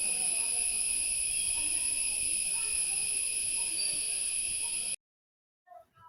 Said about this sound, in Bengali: একটু নীরবতার সঙ্গে দেখলে ঝিঝি পোকার যে আওয়াজটা, পারফেক্ট আওয়াজ, সেটা কিন্তু এখান থেকে শোনা যায়